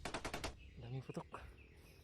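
A rapid burst of about five sharp gunshots or firecracker blasts rings out in quick succession, followed by scattered fainter pops.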